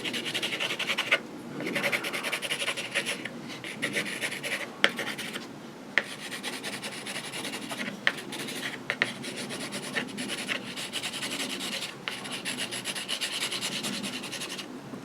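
A drawing tool scratches across paper while trees are sketched, a long run of close, dry scraping strokes with irregular rhythm, occasional taps and short pauses, and no voices.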